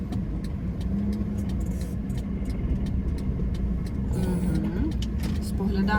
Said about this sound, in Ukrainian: Зняти ручник, знову ж таки, включити передачу, покащик і виїжджаємо.